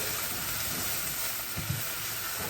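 Garlic and cherry tomatoes sizzle in a hot pan, a loud, steady frying hiss with a couple of faint soft bumps partway through.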